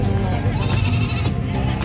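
A goat bleats in a wavering, nasal cry at the San Carlos City livestock market, close and fairly loud, with some background murmur.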